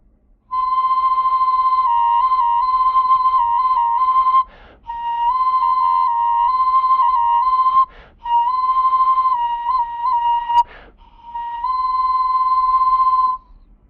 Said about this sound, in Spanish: tenemos unos efectos no solamente de silbatos monofónicos cada uno, sino que con la obturación de los orificios logramos tener otro tipo de cambios melódicos